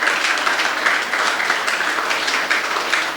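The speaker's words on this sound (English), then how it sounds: "I want to give a round of applause for your member of parliament, Andrew Morris." A mixed crowd at a political community event for a member of parliament gives steady, dense applause, loud and continuous throughout with no speech over it.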